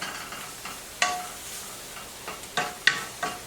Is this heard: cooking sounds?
yes